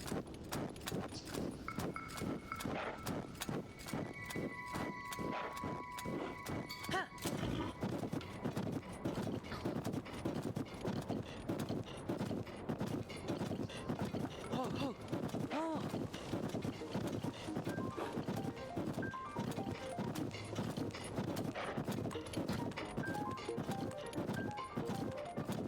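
Horse hooves clip-clop in a steady walking rhythm throughout a Zelda game, loud and close, with a whinny and game music in the background while a voice talks over it.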